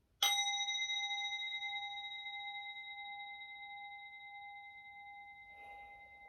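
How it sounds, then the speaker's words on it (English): A meditation bell struck once, a clear bright ring that sustains and slowly fades over several seconds, close and alone in a quiet room. "Let me just ring this bell."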